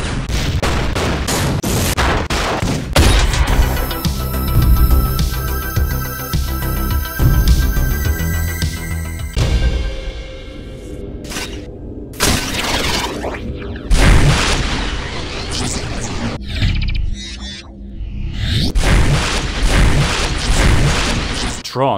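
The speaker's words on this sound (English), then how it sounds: "The suffusion rod is a sci-fi shotgun type." Sci-fi shotgun called the suffusion rod firing in the video game Tron 2.0: loud, dense booming blasts with layered electronic ringing, followed by a string of separate heavy shots with short gaps, very close and dominant.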